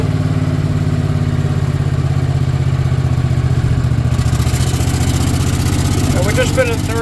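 A 1977 Cushman Truckster climbing a hill in third gear, its small engine putting out a steady, loud, close chugging drone that keeps going throughout.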